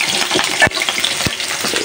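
Fish curry with onions set to cook in a pan, a steady wet sizzle and bubbling with a couple of sharp low thumps, close and fairly loud.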